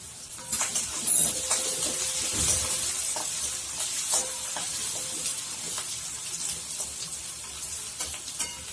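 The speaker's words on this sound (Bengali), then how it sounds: "এটাকে আমি ভালো করে ভাজবো, খুব বেশি ভাজবো না। পেঁয়াজটা নরম হওয়া পর্যন্ত ভাজবো।" Onion and green chili frying in a pan for leftover chapati upma give a steady, close sizzle with scattered clicks and stirring scrapes, with no talk over it.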